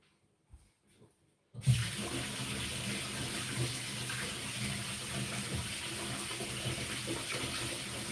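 A kitchen tap turns on after a few soft clicks and then runs in a steady, close rush of water while lasagna is being made with cottage cheese.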